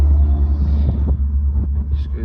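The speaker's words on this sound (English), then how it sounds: "Excuse the noise, someone's going past with their car" A car drives past outside while playing loud music, a heavy low bass rumble that dominates close by with muffled thumps of the beat on top.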